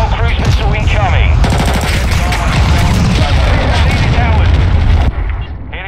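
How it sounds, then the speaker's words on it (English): Cruise missile strike in Call of Duty Modern Warfare II multiplayer, heard as a loud, dense barrage of booms and rattling gunfire for several seconds, with game voices mixed in before the roar cuts off sharply. "Hostile cruise missile incoming."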